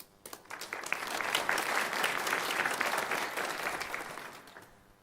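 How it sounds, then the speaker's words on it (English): Clapping at a dedication service, opening with a few scattered claps, swelling into full, even applause from a crowd in the room, then tapering off toward the end. "This is not a worship service, so we can clap."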